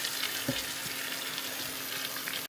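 Cabbage goes into a pan of frying carrots, giving a steady, close, even hiss of sizzling oil that lasts the whole stretch, with no talking.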